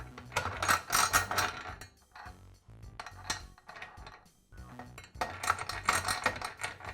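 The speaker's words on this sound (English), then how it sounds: "So I'll place the nut into the screw guide and then insert the screw." A metal vise nut and screw are fitted into the screw guide of a Makita chop saw, making close, crisp bursts of clinking and rattling metal with short pauses between handling sounds.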